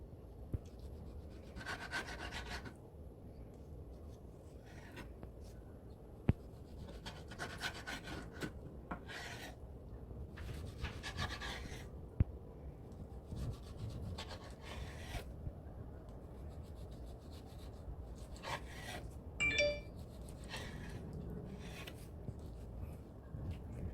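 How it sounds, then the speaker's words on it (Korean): A knife slices lengthwise through raw chicken breast on an Epicurean cutting board made of eco-friendly wood material, producing repeated close rasping, sawing bursts separated by short pauses, with occasional sharp taps of the blade. "이제 세로로 썰어볼게요."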